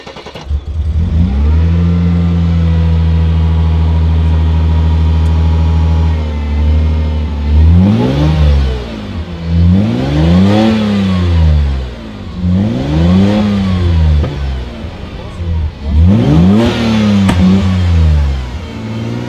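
A hobby car's engine idles with a steady low hum, then revs hard several times in a row, each sharp rising and falling surge loud and close.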